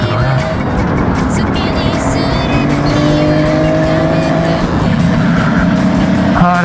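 Road traffic on a busy holiday road heard from aboard a Kawasaki 500SS Mach III: a loud, continuous roar of engines and tire and wind noise, with tonal engine drones shifting pitch as vehicles pass close by.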